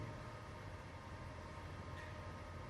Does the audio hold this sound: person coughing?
no